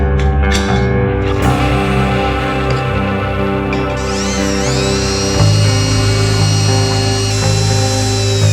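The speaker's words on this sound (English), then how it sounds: "I'm just going to drill some holes." A power drill bores holes into a homemade metal Harley Sportster battery box, a loud, close, sustained whine that climbs in pitch as the bit cuts, with no voices.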